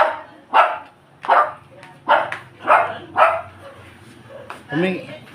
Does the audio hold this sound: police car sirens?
no